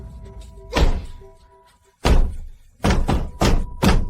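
Heavy thuds against a stuck storeroom door, one blow then a pause, followed by four loud, spaced bangs in an irregular rhythm, close and forceful, with no talking.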